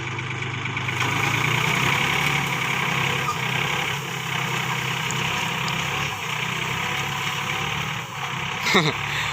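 New 39 hp farm vehicle at a straw baling field, moving slowly in first gear with the engine unrevved, a steady low chugging idle-like drone throughout with a brief clatter near the end.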